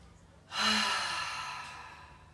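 A single long, deep breath during a yoga session, starting with a sudden loud rush of air that slowly fades over a couple of seconds, close and alone with no talking.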